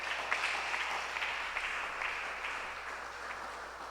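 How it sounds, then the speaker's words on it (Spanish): A church congregation applauds during a sermon, a dense, even wash of clapping from many hands, moderately distant and sustained. "¿Le puede dar un aplauso usted al Señor?"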